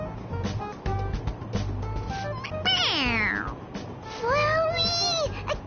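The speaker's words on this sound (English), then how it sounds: "It meows when you press on its head." Two electronic meows from a toy cat in a video game, a short one and then a longer, wavering one, playing over a low background hum.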